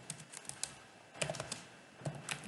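Typing on a computer keyboard while coding a website navigation in HTML, CSS and JS, a quick irregular run of close, faint key clicks in short bursts.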